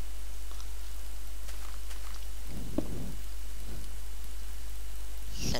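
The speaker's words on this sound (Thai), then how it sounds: "ฝนตก" Rain falls steadily in the Minecraft video game, a constant soft hiss with occasional faint patters and low rumbles, with no talk.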